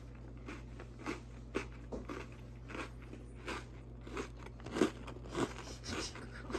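Close, quiet crunching bites and chewing of a homemade chocolate Christmas cookie taken in one mouthful, in a series of soft irregular crunches over a low steady hum.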